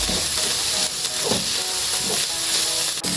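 Shrimp paste (alamang) sautéing in a pan makes a loud, constant steamy sizzle and hiss, with a few soft stirring scrapes under the continuous frying noise and no talk.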